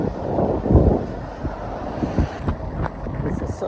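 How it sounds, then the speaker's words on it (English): Gusty wind buffeting a microphone, producing low rumbling bursts that rise and fall unevenly throughout. "This is such a windy weather."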